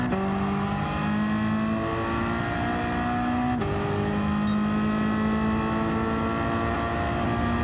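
Ford Focus touring race car built in a backyard, its engine screaming loud and steady through a lap of a race, with rising gear pulls, a sharp shift partway through and no voices over it.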